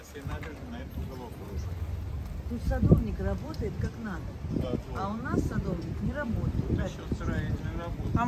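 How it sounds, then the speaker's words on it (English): Wind in Gibraltar buffets the microphone in a constant low rumble while a person talks over it throughout, with gusty noise filling the background. "It's getting a little bit windy actually today."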